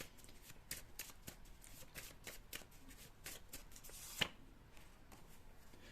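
Tarot cards shuffled by hand in a string of quick, crisp riffling bursts, close and fairly quiet, with one sharper snap near the end as the last card is drawn.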